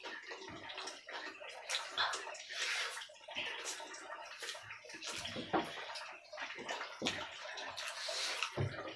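A leaking tap lets water spill and splatter unevenly, a close, irregular stream of running and dripping water with small gurgles and no talk.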